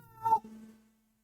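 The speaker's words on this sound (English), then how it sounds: "there's a kitty meowing up there." A cat meows once, close and clear, a short rising call that then fades into quiet.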